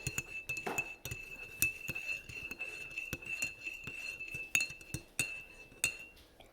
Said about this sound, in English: I'm gonna stir.